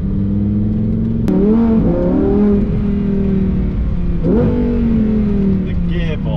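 A supercar accelerates hard, its engine note climbing, dropping sharply at a gear shift and climbing again, loud and close with talk over it.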